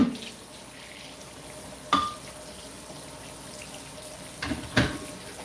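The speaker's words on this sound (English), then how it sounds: "It's super easy to clean because it's kind of already clean technically, so kind of rinse it here. Just rinse it real quick." A smoothie blender jar rinsed under a running tap, a soft steady water hiss with a few sharper clunks and splashes as the jar knocks against the sink.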